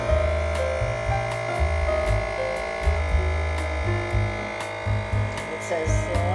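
A vacuum sealer draws the air out of a bag of burgers with a steady, close electric hum and buzz that keeps running evenly throughout with slight pulsing.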